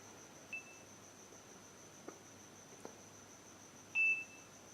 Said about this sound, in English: That is the beeping sound